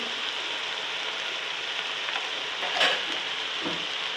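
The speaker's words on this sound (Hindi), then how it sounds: "जरा मिक्स करूँगी ताकि सब कुछ अच्छी तरह भुन जाए" Spices fry in oil in a pulao pot as they are stirred, a steady, loud, close sizzle that hisses without a break, with a few faint scrapes of the spoon and no talking.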